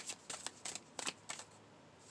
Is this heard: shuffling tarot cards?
yes